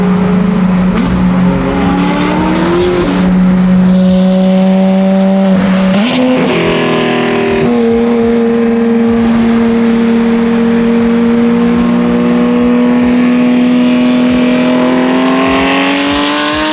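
Ferrari F8 sports car engine droning steadily while driving, with a smooth gear shift around mid-run and the pitch then climbing slowly under acceleration, loud and close from inside the cabin, with no voices.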